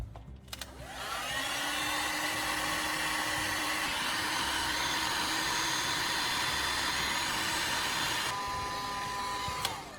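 A heat gun blows steadily on the edges of cut plastic bottle tops, a loud continuous airy roar with a motor whine that starts after a brief quiet moment and cuts off near the end.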